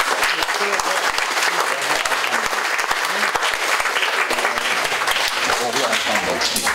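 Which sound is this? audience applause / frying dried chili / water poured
audience applause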